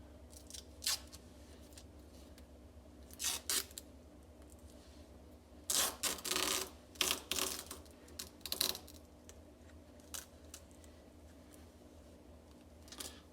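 Tape is pulled and wrapped around a rattan sword in a quiet room, producing scattered short crackling rips and sticky peeling bursts, a few clustered together, with no speech.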